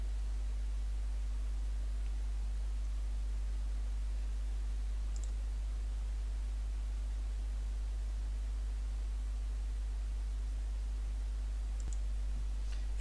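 Two faint, isolated computer mouse clicks sound in dental software against a steady background hiss and low hum.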